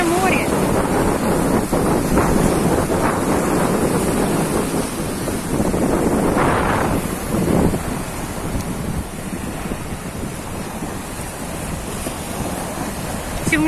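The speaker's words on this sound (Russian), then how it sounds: "Черное море." Black Sea surf rolling onto the shore with gusting wind buffeting the microphone, a loud, continuous roar with swells of breaking waves.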